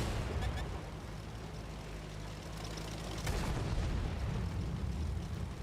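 A tank cannon fires in the World of Tanks console game, one sharp burst standing out of steady engine rumble and battle noise, followed by a louder, denser stretch of combat sound.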